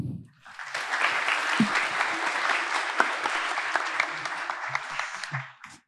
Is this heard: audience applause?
yes